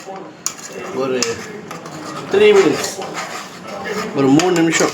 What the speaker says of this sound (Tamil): நல்லா மீடியம் ஃப்ளேமில் வச்சு வதக்கணும்